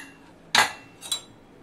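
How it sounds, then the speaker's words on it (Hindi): Two sharp metallic clanks a half-second apart as a cooled pressure cooker is unlocked and its heavy lid lifted, in an otherwise quiet room. "अब यहाँ पर हमारा कुकर ठंडा हो गया है अब इसे खोल लेते हैं"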